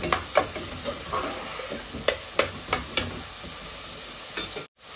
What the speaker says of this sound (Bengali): তো পেঁয়াজটা একটু কষা নিও, তারপরে মশলা দিব